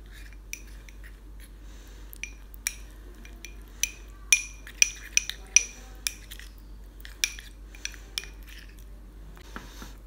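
Curd and rice flour stirred together in a bowl with a spoon, a scattered series of crisp clinks and light scrapes against the bowl, close and sparse over near silence.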